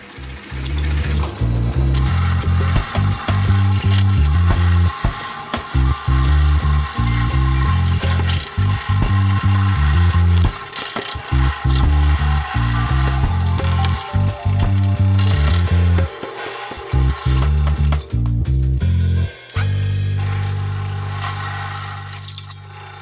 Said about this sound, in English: Here I'm drilling the big hole for the Vise screw.